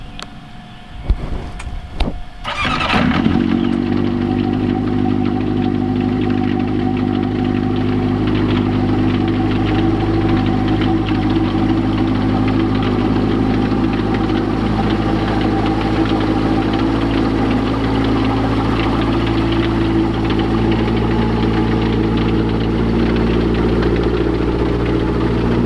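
A 150 hp Yamaha engine fitted to a STOL Highlander aircraft starts with a few rough bursts, then settles into a steady, loud, close idle with a strong low drone that continues alone to the end.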